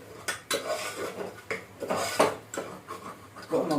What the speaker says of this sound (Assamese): এতিয়া মই আকৌ অকণমান লাৰিছোঁ